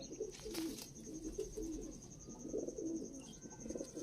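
A high-flying Dubai breed pigeon coos in low, rolling bursts that repeat every second or so, close and fairly soft, with a faint steady tone in the background.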